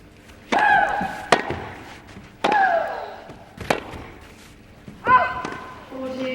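A player's sharp, loud grunts accompany a few hard tennis ball impacts during a professional match, with bursts of effort spaced a second or two apart, then a trailing voice near the end.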